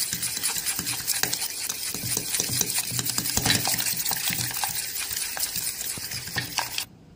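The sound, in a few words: whisking coffee cup cake batter in a bowl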